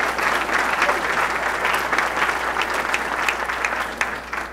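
An audience at a college distinguished-leaders lecture series applauds warmly: dense, even, loud clapping from a full room, sustained without a break.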